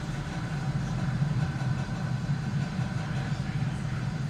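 SpaceX Falcon 9 rocket carrying a crewed Dragon on the Ax-1 launch, heard as a steady low rumbling roar that holds even and continuous throughout, with no distinct bursts.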